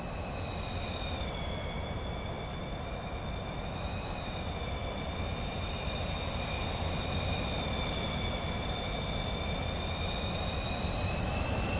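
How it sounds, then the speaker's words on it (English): Pilatus PC-24 business jet in Microsoft Flight Simulator 2024, a steady loud turbine roar with a high whine, continuous throughout with no talking. "Alright, here comes Bullets. In the PC-24, right?"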